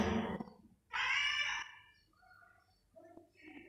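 A cat gives a loud, drawn-out meow close by, followed by a few softer, shorter mews and chirps.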